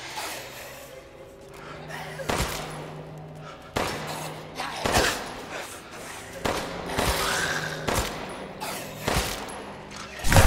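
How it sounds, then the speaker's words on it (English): Game gunshots ring out in Resident Evil 8, several loud separate bursts spaced irregularly across the stretch under a low ambient bed, with a person breathing and reacting between them. "Line up! I'ma shoot y'all."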